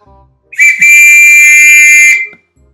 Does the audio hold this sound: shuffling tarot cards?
no